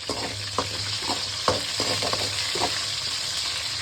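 Shallots and garlic sautéing in hot oil for a radish sambar, a steady close sizzle with several sharp stirring scrapes and clicks of a spoon against the pan.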